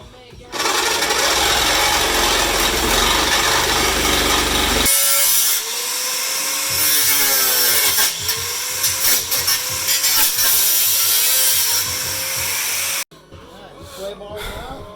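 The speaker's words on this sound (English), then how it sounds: "Use the cutting wheel, and then go ahead and make a cut here." A cutting wheel slicing through car parts during an engine swap into an RX8, a loud sustained grinding whine that drops to a harsher rasping cut with wavering pitch, then stops abruptly near the end.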